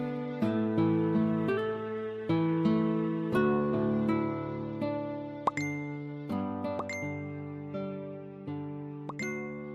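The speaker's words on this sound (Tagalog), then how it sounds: "Toto, itong phone mo kanina pa tunog ng tunog" A phone sounds chat message notifications over and over, a string of overlapping bright ding chimes in quick succession with no talk.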